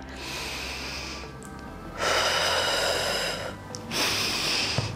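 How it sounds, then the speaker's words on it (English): A pregnant woman breathes deeply during a glute workout, with long, loud breaths drawn in and pushed out close by in a slow, steady rhythm and no talking. "Deep breath in,"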